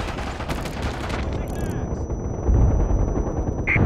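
An artillery fire mission firing sensor shells in the PlayStation 3 shooter MAG, heard as dense rumbling gunfire and blasts that swell louder midway, mixed with radio chatter and a voice.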